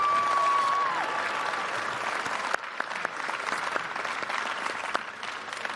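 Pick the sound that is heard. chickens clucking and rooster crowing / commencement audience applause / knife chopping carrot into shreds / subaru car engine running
commencement audience applause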